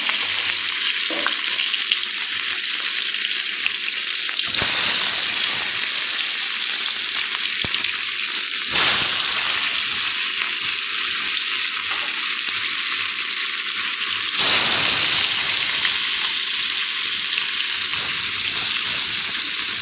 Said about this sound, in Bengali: প্রথমে কড়াইতে তেল দিয়ে মাছগুলোকে ভেজে নেব